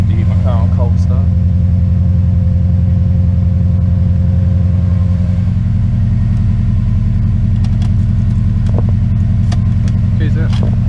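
A Subaru WRX engine runs on a cold start with a loud, steady idle drone close by, its pitch shifting slightly midway, while a person talks briefly over it.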